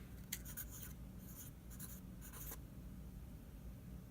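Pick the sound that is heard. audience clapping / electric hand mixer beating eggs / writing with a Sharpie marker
writing with a Sharpie marker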